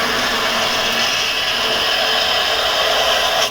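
Wood turning on a lathe with a carbide chisel, a steady loud broadband hiss of cutting that runs unbroken for a few seconds with no talk.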